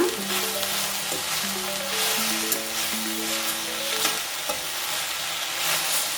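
Leafy greens with salt stirred and fried in a pan for a Karnataka-style kirak sali soppu palya, steady sizzle with scraping stir strokes throughout, close and fairly loud, no talk.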